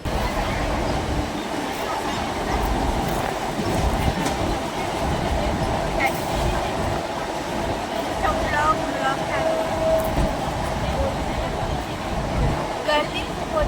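A train at a railway station, with continuous rolling rumble and faint clacking beneath crowd babble and people talking nearby.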